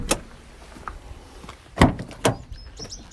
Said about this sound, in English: Just pop the bonnet while I'm here.